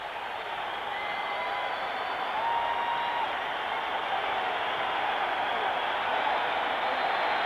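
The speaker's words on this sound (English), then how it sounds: "he comes out to a vast barrage of applause that hits him as he comes into the central arena" A vast arena crowd roars and applauds as boxer Marvin Hagler enters, a dense, continuous wash of cheering and clapping that swells slightly and never drops out.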